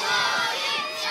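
Children at a summer camp cheer together for their team, a loud, steady crowd of young voices shouting and whooping throughout the brief moment.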